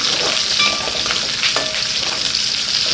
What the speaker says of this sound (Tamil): பூண்டு லைட்டாக வாங்கினதுக்கப்புறம் வெங்காயம் போட்டுக்கலாம்.